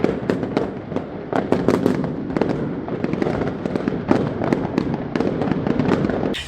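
New Year's fireworks going off in a dense run of sharp bangs and crackling pops, overlapping bursts near and far with a continuous rumbling wash between them.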